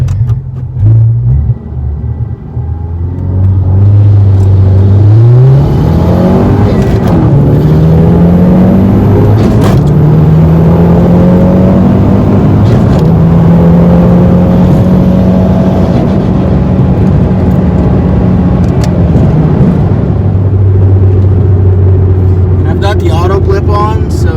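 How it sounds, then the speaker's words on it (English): A car with a Coolerworx shifter pulls away on a slow clutch let-out, its engine droning loudly and steadily rising in pitch through the gears for about twenty seconds before settling to a lower hum, with no talking. "let's do a little bit of a slow clutch let out acceleration here"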